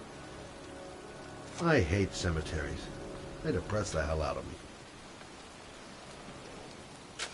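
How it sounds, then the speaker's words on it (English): Steady rain falling over a cemetery in the video game Heavy Rain, a soft continuous hiss in the background under a man's speech. "It's cold. It's raining."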